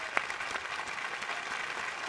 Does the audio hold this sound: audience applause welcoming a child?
yes